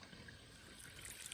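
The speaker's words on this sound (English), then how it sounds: "running some water down the sink, a few gallons of water" Several gallons of water run down a sink into a homemade grey water drain at an off-grid cabin, making a faint, steady trickling and gurgling flow.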